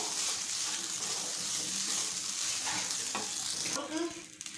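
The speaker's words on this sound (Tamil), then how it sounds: "லோ டு மீடியம் ஃப்ளேம்லேயே வச்சுட்டு ஒரு தடவை கலந்து விட்டுப்போம்" Food sizzles steadily in a hot pan on a low-to-medium flame while a utensil stirs and scrapes through it, close by, with a few clinks near the end.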